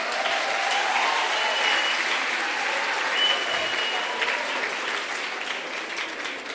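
An audience at a talk on gratitude applauds steadily, a wash of many hands clapping at moderate volume that slowly thins toward the end.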